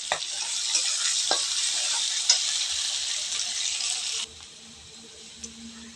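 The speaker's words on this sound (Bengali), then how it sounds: "পেঁয়াজটাকে ভালো করে ভেজে নিতে হবে" Chopped onions fry in a pan, a strong hissing sizzle with occasional stirring knocks that abruptly drops to a much quieter simmer for the last couple of seconds.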